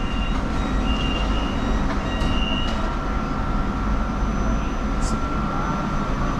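MRT metro train at a station in Malaysia, a steady broad rumble of rail noise filling the platform, with faint squeals and clanks over the continuous drone.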